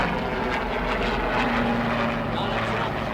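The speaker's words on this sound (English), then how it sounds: "an aeroplane." An aeroplane passing overhead, a steady loud droning roar that holds throughout, with voices faintly mixed into the noise.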